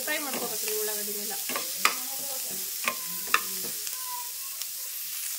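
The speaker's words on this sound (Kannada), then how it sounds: "ಇದ್ರದ ಹಸಿ ವಾಸನೆ ಹೋಗೋವರೆಗೂ ಫ್ರೈ ಮಾಡ್ಕೋಬೇಕು ರೀ ಉಳ್ಳಾಗಡ್ಡಿನೆಲ್ಲ" Onions frying in a pan, giving a steady soft sizzle with occasional sharp stirring clicks, close by and mixed with tonal, music-like sounds.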